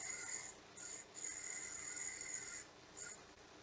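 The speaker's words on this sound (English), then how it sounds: "So this is the time where you want to sand this section of the finial here." Sandpaper rubs against a wooden finial spinning on a lathe, a steady raspy hiss in long stretches broken by short pauses, close and fairly quiet.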